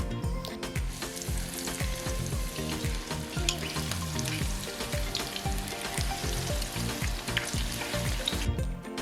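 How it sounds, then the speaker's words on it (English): Beer-battered ostrich bites sizzle and crackle steadily in hot olive oil, a dense, continuous frying hiss heard close up with no talking. "Grab your ostrich pieces, dip them in the batter, and then put them in the oil."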